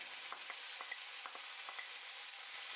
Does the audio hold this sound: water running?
no